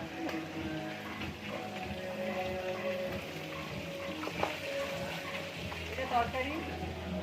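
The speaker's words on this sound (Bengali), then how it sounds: "মাছ ভাজা মাছ ভাজা" Fish sizzles steadily in hot oil while being cooked for a rooftop wedding sangeet gathering, a dense continuous frying crackle throughout with faint voices murmuring in the background.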